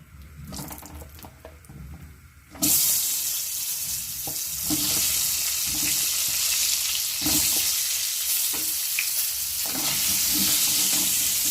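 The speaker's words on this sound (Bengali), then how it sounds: "এবার সামান্য একটু হলুদ গুঁড়ো দিচ্ছি, নুন দিলাম, আলুগুলো ভেজে নিচ্ছি।" Potatoes hit hot mustard oil with turmeric and salt and burst into a loud, close sizzle after a quieter start with a few clatters; the hissing then holds steady, broken by occasional stirring scrapes.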